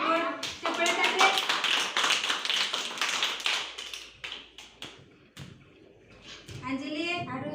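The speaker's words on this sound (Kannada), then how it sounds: "ಚಪ್ಪಾಳೆ ತಟ್ಟೆ" Children clapping their hands in a preschool classroom, a burst of quick, close slaps that fades into scattered taps, with a teacher and kids talking over and between them.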